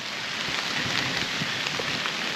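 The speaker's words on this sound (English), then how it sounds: "the sound of the rain on the trees" Steady rain patters on forest trees along the Maine coast, a dense continuous hiss with scattered nearer drips, fairly loud and with no one speaking.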